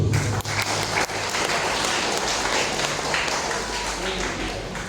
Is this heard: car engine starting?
no